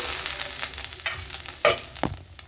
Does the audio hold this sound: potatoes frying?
yes